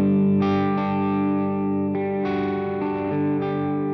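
Electric guitar played through a Bias FX effects rig on iPad or iPhone, giving distorted sustained chords with shimmering modulation, restruck every second or so, close and alone.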